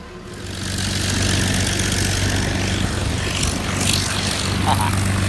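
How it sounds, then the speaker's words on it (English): A P-51 Mustang's propeller engine runs steadily and loud, a continuous close droning roar that swells slightly and holds throughout. "These guys are taking the P-51 out"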